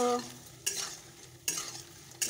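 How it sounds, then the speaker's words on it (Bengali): Dry red chillies fry in a pan with a soft steady sizzle, broken by three sharp scraping bursts of stirring at regular intervals. "শুকনো লঙ্কা ভেজে নিলাম।"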